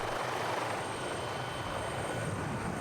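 A helicopter drones steadily nearby, its rotor and engine noise filling the whole stretch at a constant, loud level.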